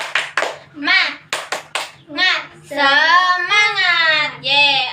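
A class of students does a rhythmic spirit clap in a classroom, sharp clap bursts in patterned groups alternating with a chanting voice and sung tones, close and loud.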